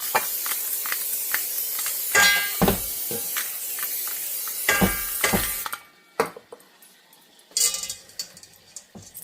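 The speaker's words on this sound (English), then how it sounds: "We're going to spray our glass pan." A glass baking pan is sprayed with cooking spray in several hissing bursts, some short and some sustained, with light clinks of glass between them, all close and clear.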